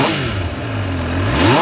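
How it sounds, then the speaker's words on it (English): A Benelli Tornado 900 three-cylinder motorcycle engine revs loudly and close by, a steady roar with a pitch that dips and then climbs again toward the end. "The powerful three-cylinder engine roars like a lion."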